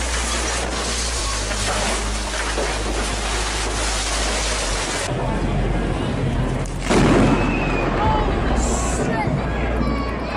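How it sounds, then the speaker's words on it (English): A tornado and violent storm winds roar in a loud, continuous broadband rush with rumbling gusts, while voices shout excitedly over the wind. "This is a tornado!"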